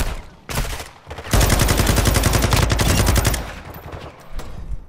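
Rapid pistol gunfire from a Call of Duty DMZ match, a dense run of loud repeated shots with an earlier short burst, then quieter game noise.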